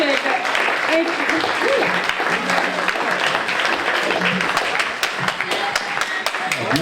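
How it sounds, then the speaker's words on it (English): A church congregation gives sustained hand-clapping applause, steady and fairly loud, with voices calling out over it. "if we could just give the Lord a hand clap of praise"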